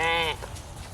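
A goat on a farm with a livestock guardian dog gives a single short, close bleat at the start, followed by quieter background noise.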